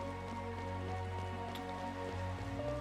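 Steady rain falling over a town in the video game Chained Echoes, a soft continuous patter beneath sustained, tonal game music.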